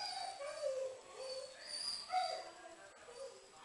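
Soft, high-pitched puppy whimpers and yips come in a wavering series, close and fairly faint, with light background noise.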